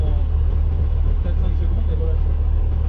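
A heavy truck engine is held at high revs around 3000 rpm during a roadworthiness inspection, giving a steady, loud, dense drone with strong low rumble throughout and no break.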